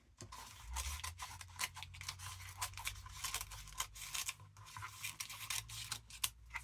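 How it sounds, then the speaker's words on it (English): Scissors snip repeatedly through the pages of a vintage book, a fast series of close, crisp cuts and scratchy rustles, quiet overall and without talk. "let's grab the scissors"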